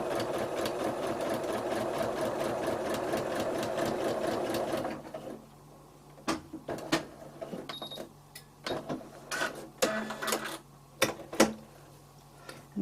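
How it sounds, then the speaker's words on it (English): A sewing machine stitches down a line on a foundation-pieced quilt block, running in a fast, even mechanical rattle for about five seconds before stopping. A scatter of sharp clicks and handling knocks follows. "and sew down that line."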